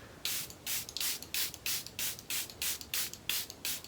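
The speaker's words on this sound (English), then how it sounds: "I just got this new Charlotte Tilbury Airbrush Flawless Setting Spray" Charlotte Tilbury Airbrush Flawless Setting Spray misting in about ten quick, evenly spaced pumps, each a close, airy hiss with brief gaps between, heard alone without talk.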